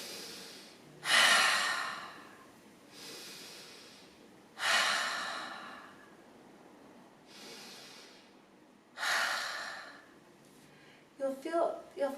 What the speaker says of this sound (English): as you exhale out, forcefully breathe out, making a ha or a huff sound